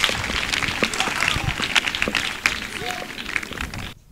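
A church congregation applauds and cheers, with steady, dense clapping under shouting voices and cheers throughout.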